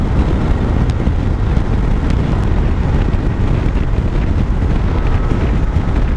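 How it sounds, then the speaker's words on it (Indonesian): Strong wind roars steadily and loudly across the microphone of a rider on a big scooter at speed, a dense continuous rush with faint engine hum beneath and no talk. "Angin tengah kuat sekarang ni."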